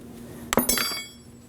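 A wrench or socket clanks sharply against the nut on the rear control arm bolt of a 2017-2024 Nissan Armada, a couple of close metallic clinks ringing briefly before fading to quiet.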